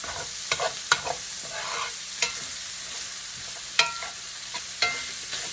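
Sausage sizzles steadily in a hot pan for biscuits and sausage gravy while a utensil breaks it into smaller pieces, with sharp scraping and tapping clicks at irregular intervals over the constant frying hiss. No talking.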